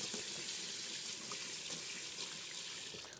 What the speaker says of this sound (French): Je rince mon fouet.